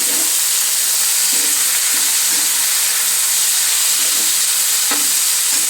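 Chopped onions fry and sizzle in a pan for a methi curry, a loud continuous hiss with soft scraping strokes of stirring now and then, close up and with no talking.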